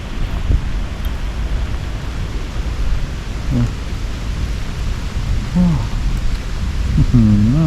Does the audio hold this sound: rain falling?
yes